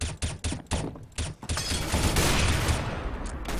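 Pistol gunfire in Counter-Strike: Global Offensive, a quick run of about seven sharp, evenly spaced shots that blurs into a dense, sustained burst of overlapping gunfire, close and fairly loud with no talking.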